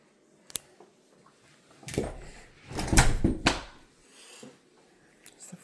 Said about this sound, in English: It's the front door.